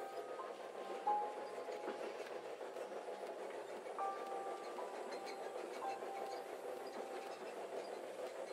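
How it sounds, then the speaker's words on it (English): A train in the video game The Charnel House Trilogy rumbles steadily as it picks up speed, with rolling wheel noise and faint metallic squeals, continuous and moderately loud throughout. "The train's picking up speed."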